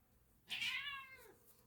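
A house cat gives a single short meow, rising and then falling away, clear and fairly close against a quiet room.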